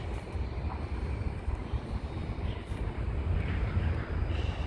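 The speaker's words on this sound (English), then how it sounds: "here comes an airplane" Airliner passing at Sydney airport, a loud, continuous roar of jet engines with broad low rumble that holds steady throughout, heard close with no talk.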